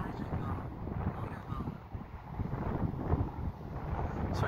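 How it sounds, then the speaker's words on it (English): Strong wind buffets the microphone in a steady rumbling roar during an outdoor flight of an EBW-160 UAV, with someone talking intermittently over it. "It's really windy."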